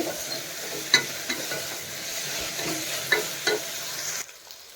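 Vangi bath ingredients fry in a pan with a steady, close sizzle, broken by a few soft scrapes of stirring, until the sizzle drops away near the end.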